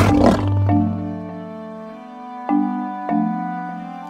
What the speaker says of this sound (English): I hear a lion roaring in my ear.